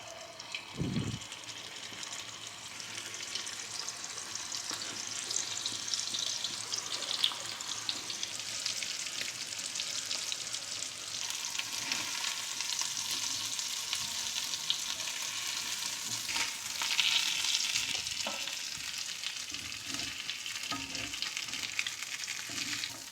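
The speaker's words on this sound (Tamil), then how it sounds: "இப்போ 2 பொரிச்சு எடுத்துருவோம்," Vanjaram (seer fish) pieces frying on a hot oiled griddle give a continuous close sizzle with crackling and occasional scraping, steady throughout with no voices.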